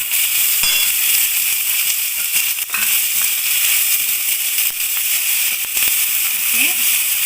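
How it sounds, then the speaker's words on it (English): Garlic and onion fry in a hot pan for a Gobi Manchurian, giving a steady, dense sizzle with small crackles and brief taps throughout. "We fry the garlic a bit, and almost immediately put in the onion."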